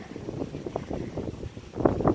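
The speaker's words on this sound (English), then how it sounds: "it's a little windy out here" Outdoor wind gusts buffet the microphone in uneven low rumbles, swelling louder toward the end.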